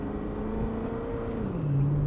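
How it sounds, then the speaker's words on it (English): A C6 Corvette with universal valved mufflers runs on overrun, its exhaust note holding steady and then dropping in pitch as the revs fall, fairly loud and close for about two seconds. "You get a lot of overrun too, listen."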